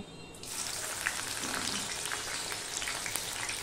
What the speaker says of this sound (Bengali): এবার আমি পেঁয়াজগুলো ভেজে নেব।